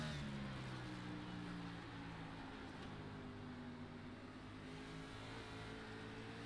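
A race car engine in a virtual racing game at the Nashville Fairgrounds 200 holds a steady drone with layered engine harmonics and slight pitch shifts, loud and continuous with no talk over it.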